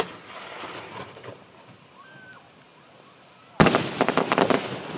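A July 2012 fireworks display at Torbay: after a quiet stretch with a faint rising whistle, one sharp, loud burst is followed by a run of crackling pops.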